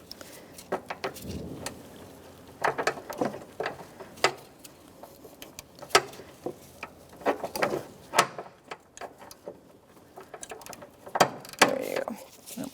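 Ratchet with a 16mm socket working a transmission mount bolt on a 2007-2010 Chrysler Sebring, irregular clicking ratchet strokes and metallic clanks, close and moderately loud in a garage setting.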